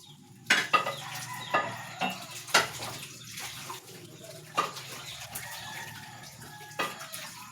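Water runs steadily while plates and utensils clink and knock now and then during dishwashing, with faint chick chirps in the background.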